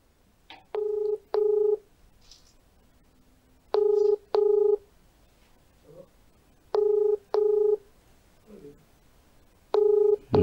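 A telephone call rings out with a double-burst ringback tone repeating four times at steady intervals, clear and loud against a quiet line.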